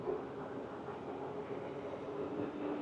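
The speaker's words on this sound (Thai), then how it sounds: "รถไฟฟ้ากำลัง วิ่งผ่านอยู่เลยนะครับผม" Bangkok BTS Skytrain passing by, heard from the elevated Pathumwan Skywalk: a steady, continuous rumble and rolling hum of the elevated train at moderate distance, with no breaks, against city ambience.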